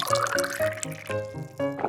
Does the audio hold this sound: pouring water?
yes